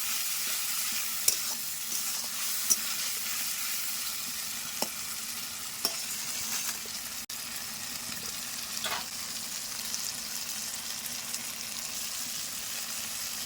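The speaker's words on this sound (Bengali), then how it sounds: "এবার সব কিছু ভালো করে কষিয়ে নিতে হবে" Onion paste with ginger, garlic, cumin, coriander, fennel and green and dry chillies fries in a pan for a chicken curry, a steady close sizzle broken by occasional clicks and scrapes of a stirring spoon, with no talking.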